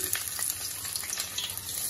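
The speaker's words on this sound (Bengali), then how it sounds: "এবার আমি ফোড়নের জন্য দিয়ে দেব গোটা জিরে।" Whole cumin seeds crackle and sizzle in hot oil in a pan for egg chow mein, a dense, close, continuous frying hiss with small irregular pops.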